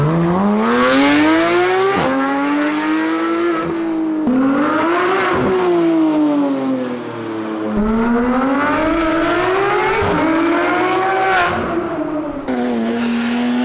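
Porsche-style 3.8-litre flat-six sports car engine with its sports exhaust open, revving hard and loud through several rising and falling sweeps, each climb to high revs followed by a quick drop.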